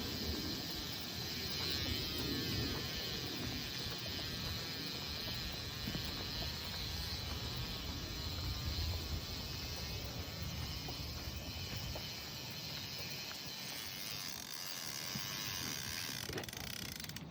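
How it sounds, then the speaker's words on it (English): A fishing line counter reel free-spools line out for salmon fishing, making a continuous fine mechanical whirring and ticking from the spool and counter gears. The sound is close and steady for the whole span, with no voices. "you're gonna free spool it all the way down to your 100 mark"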